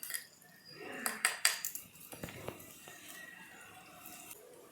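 A metal dosa tawa clanks and scrapes onto a stovetop in a miniature kitchen, with several bright, close metallic knocks clustered together, then quieter rattles fading off.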